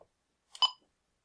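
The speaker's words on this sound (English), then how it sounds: "Let's start by logging in using a B930 keypad." A single short electronic beep from a B930 security keypad as a passcode key is pressed, faint and isolated in otherwise silent surroundings.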